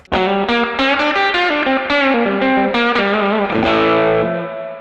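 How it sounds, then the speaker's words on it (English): Crunchy electric guitar through a Supro-like tube vintage combo amp model in AmpliTube 5, a run of picked riff notes and chord stabs, close and clear, ending on a sustained chord. "Now I'm just going to take a crunch amp here, so let's have a tube vintage combo."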